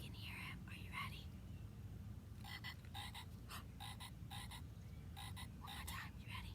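A frog croaks in repeated rapid bursts, fairly close, over a low steady background hum with faint whispering.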